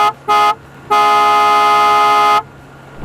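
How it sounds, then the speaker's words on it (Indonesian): An aftermarket horn on a Jeep Wrangler JK sounds in three loud blasts: two short toots followed by a long sustained honk, with a brassy, multi-tone quality. "Lengkap dengan klaksonnya juga diubah jadi lebih sangar lagi"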